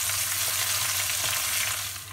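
Onions sauté in a pan with a dense, even hiss of frying and soft stirring underneath a low background hum, fading slightly at the end.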